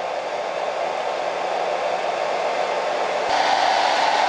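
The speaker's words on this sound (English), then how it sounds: "Mr. Piggy, get blow dry." A hair dryer blows on a toy pig, giving a steady, loud, close whoosh of airflow that runs throughout and grows slightly louder and brighter near the end, as if switched to a higher setting, with no voices.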